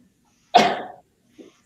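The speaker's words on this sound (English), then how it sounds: "going to sneeze." A person lets out one sharp, explosive sneeze close to the microphone. A short, faint breathy sound follows a moment later in otherwise quiet surroundings.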